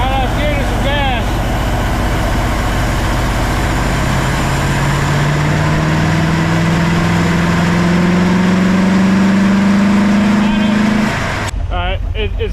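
Porsche 928 engine with a fuel injection fault, idling rough then pushed up with throttle, pitch climbing steadily for several seconds before dropping off abruptly; loud and close, with a voice speaking over it.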